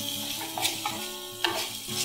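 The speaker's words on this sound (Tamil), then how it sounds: "இப்போ வந்து நம்ம இதில் 2 பச்சை மிளகாயை முழுசாகவே சேர்த்துக்கலாம். சேர்த்துட்டு நல்லா கலந்து விட்டுருங்க." Green chillies stirred into a simmering curry in a pan, with a steady sizzle and fry under repeated scraping strokes of a spoon against the pan, no voices.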